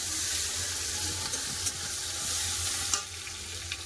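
Onions and green chillies frying with whole garam masala in a pan, a steady broad sizzle with scraping stir strokes now and then, including a louder scrape near the end, close and continuous with no voices.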